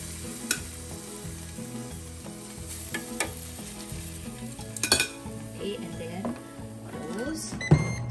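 Lechon kawali pork belly cooks in oil with a steady sizzle and crackle, joined by occasional clinks of utensils and cookware, while a person talks over it.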